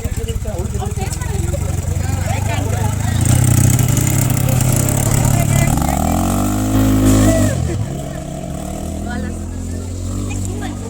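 Quad bike engines idling and revving at an off-road safari track at a Coorg resort, a loud, steady mid-pitched motor drone that swells, rises in pitch, then settles back.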